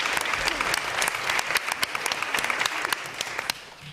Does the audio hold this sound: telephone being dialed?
no